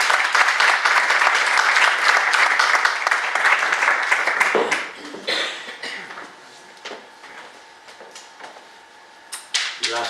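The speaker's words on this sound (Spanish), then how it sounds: "Un aplauso para Félix Grande" An audience at a poetry association event applauds a poet in loud, dense clapping that breaks off abruptly about halfway, leaving scattered claps, rustles and a few coughs.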